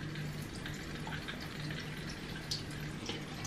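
Tap water runs steadily while a skin care product is rinsed off the skin during a morning routine, a faint continuous splashing hiss with small drips, no talking.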